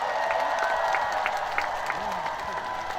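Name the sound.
festival audience applauding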